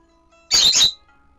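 A single short bird chirp, two quick close notes, rings out during quiet play of the rhythm video game Hatsune Miku: Project Diva f, with faint background tones.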